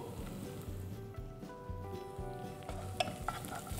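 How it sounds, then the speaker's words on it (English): Sliced galangal and kaffir lime leaves stirred through green curry in a pan, a steady sizzle with scraping strokes of the spoon repeating in a regular rhythm, close and fairly loud, with no talking. "Just quickly give it a stir"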